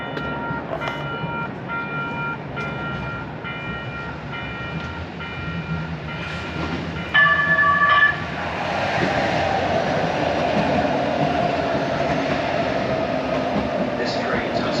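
An Edmonton C-Train light rail train arriving at a station with a steady, loud rolling rumble and rail clatter, a brief tonal chime or squeal midway, then a fuller, denser roar as it draws close.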